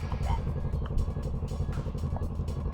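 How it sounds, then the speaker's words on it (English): A moped engine chugs nearby in a rapid, steady putter with slight revving swells, accompanied by brief bursts of talk. "Nice moped, bro."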